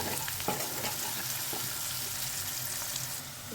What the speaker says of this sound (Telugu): మంచిగా ఫ్రై అయ్యేంత వరకు మనం ఫ్రై చేసుకోవాలి. ఇది కొంచెం ఫ్రై అయిన తర్వాత పసుపు వేసి బాగా కలిపేసుకోవాలి.